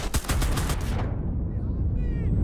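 Gunfire from the infantry shooter Enlisted: a rapid close burst of shots for about a second, then ringing tail and ambient battlefield hum.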